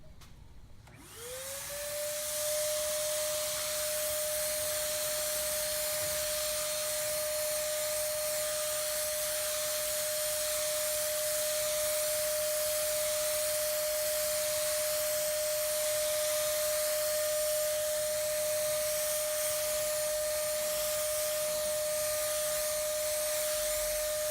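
A wet, heavy coat of Plasti Dip being sprayed to repair drips and runs, giving a loud, continuous, close hiss with a steady whine that runs unbroken throughout.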